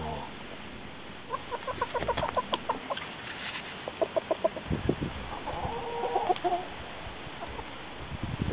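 Chickens outdoors in snow, a few birds clucking close by in quick rhythmic bursts of short clucks, with a low background noise between the calls.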